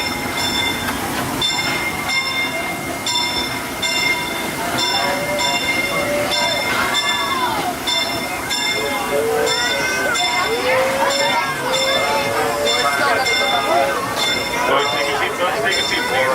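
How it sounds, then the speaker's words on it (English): A Disneyland Railroad train rumbles into Tomorrowland station at night with squealing wheels and clattering, steady and fairly close, while a voice talks over a loudspeaker. "please remain fully seated until the train comes to a full and complete stop"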